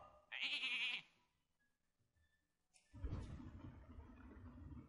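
A sheep bleats in Hearthstone after a polymorph spell, a loud wavering bleat lasting under a second, followed by a burst of mixed game sound effects.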